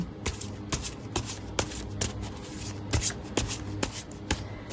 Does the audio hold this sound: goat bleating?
no